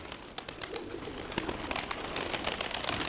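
Birds call in a busy, steady chorus with soft cooing and scattered sharper chirps, close by and without talk.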